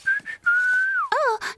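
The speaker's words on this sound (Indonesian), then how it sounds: "aku suka bersiul saat bekerja" A cartoon pony whistles cheerfully while working: two short chirpy notes, a long sustained tone that slides downward, then a few wavering warbled notes, clear and close.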